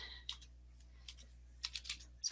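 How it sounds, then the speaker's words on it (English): Quick bursts of keystrokes on a computer keyboard come in small irregular clusters separated by pauses, close and fairly quiet over a low steady hum. "I'm just typing that in there."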